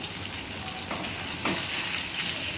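Thick-cut paneer pieces fry lightly in a pan, giving a steady soft sizzle with a couple of brief scraping strokes as they are moved, close and moderately quiet, no talking.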